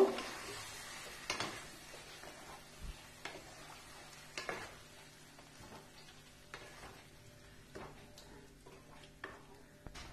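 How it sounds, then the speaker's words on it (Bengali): Boiled chickpeas being stirred into a cooked spice masala for chhole: a soft, quiet simmering background broken by irregular scraping and tapping of a spoon against the pan, with no talking. "এবারে আমি ছোলাগুলো যেগুলো সেদ্ধ করে রেখেছিলাম সেগুলো এই মশলার ভেতর দিয়ে দিলাম, দিয়ে ভালো করে একবার মিশিয়ে নেব"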